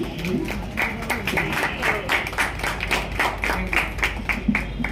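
An audience claps together in steady rhythm at a Women's Day program held by a journalists' association and police station in Saswad, the claps close and moderately loud, continuing throughout.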